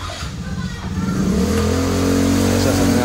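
A motor engine runs steadily and revs up, its low drone building and holding loud and close throughout, with people talking over it.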